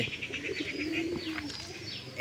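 Pigeons walking about where birdseed is scattered, giving a steady series of soft coos and chirps close by for the whole stretch, with no talking.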